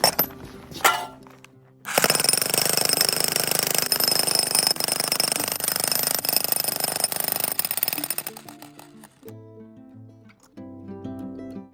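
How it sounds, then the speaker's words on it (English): A Bosch Brute stake driver, a heavy demolition hammer used for big tent stakes, pounds in a loud rapid continuous hammering burst lasting about six seconds in a warehouse, preceded and followed by short clunks and mechanical sounds. "Over here, I've got the Bosch Brute, which is the stake driver that drives the big tent stakes."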